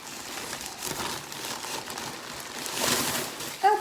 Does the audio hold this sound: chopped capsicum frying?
no